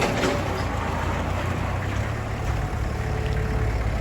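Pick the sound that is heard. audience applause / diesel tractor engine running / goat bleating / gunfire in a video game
diesel tractor engine running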